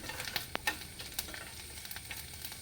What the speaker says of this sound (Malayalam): വെളുത്തുള്ളി പതുക്കെ വാടി വരുന്നു